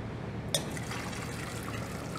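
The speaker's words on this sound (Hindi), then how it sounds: "इसके बाद मैंने पहले से पानी गर्म करके रखा था इसके अंदर डाल दीजिए" Pre-heated hot water is poured into a pot of Indian mutton curry (mutton jhol), a steady watery pour and trickle that begins with a sharp splash and continues evenly throughout, close by with no talking.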